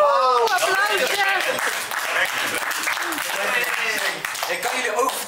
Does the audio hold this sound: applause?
yes